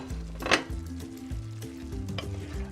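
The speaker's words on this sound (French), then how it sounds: "Et les oignons, et on va remuer délicatement." Onions and tofu stirred in a hot pan, with continuous sizzling and frying crackle, a sharp scrape of the utensil early on and several softer stirring scrapes after, close and without talk.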